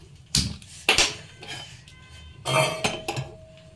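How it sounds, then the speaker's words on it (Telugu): A metal kadai set down on a stove while mutton curry is being made, giving a few sharp metallic clanks and clinks in separate bursts, close and fairly loud with quiet gaps between. "బాండి అయితే పెట్టుకున్నాను తర్వాత ఆయిల్ పోసుకోవాలి"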